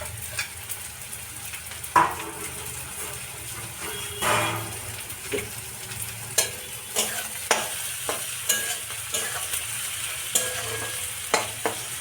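Onions and potatoes sizzle in a pan with a soft steady hiss, broken by a series of scraping, clinking stirs of a spoon against the pan.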